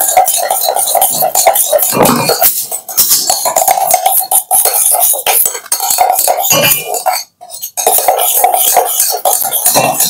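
Homemade soap mixture with sandalwood stirred in a bowl, a steady run of close scraping and clinking with a few brief pauses, no talking.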